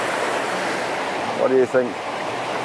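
A broad, steady rush of water from a river at Whitbeck on the Cumbria Way carries on throughout amid outdoor wind, while people speak briefly partway through.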